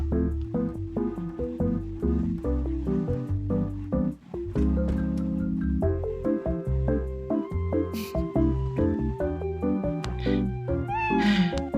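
A cat meows repeatedly in a horror video game, loud, drawn-out tonal cries following one another with short gaps, some rising into caterwaul-like wails, set over a dense sustained game soundtrack.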